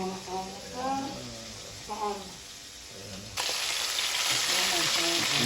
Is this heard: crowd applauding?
no